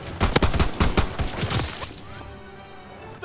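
Rapid overlapping gunfire in the World War II shooter Call of Duty WWII, a loud burst of rifle and machine-gun shots crackling for about two seconds before fading into a lingering reverberant tail.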